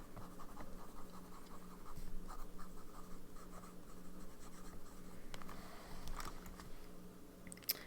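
A fountain pen with a journal nib, filled with Van Diemen's Tasmanian Vine Purple ink, scratches steadily across paper in close, quiet, continuous strokes with small ticks of pen lifts.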